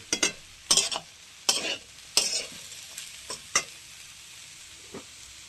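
Ghee and garam masala frying in a pan are stirred with a utensil, giving sharp scraping strokes at irregular intervals over a faint, steady sizzle; close up, with no voices.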